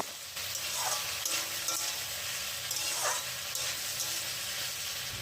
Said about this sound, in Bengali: এখন এটা ভালোভাবে ভেজে নিচ্ছি